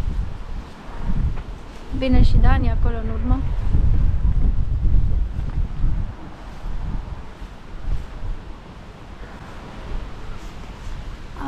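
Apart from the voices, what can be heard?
wind blowing by the Adriatic Sea in Split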